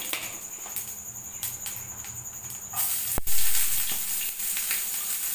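Cumin seeds sizzle in hot oil for poha, a close, steady crackling hiss with a sharp pop partway through, after which the sizzle grows louder and fuller.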